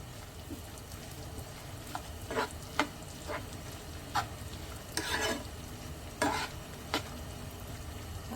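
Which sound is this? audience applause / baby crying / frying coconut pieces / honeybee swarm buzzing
frying coconut pieces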